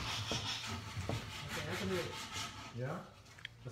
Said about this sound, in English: And sand it.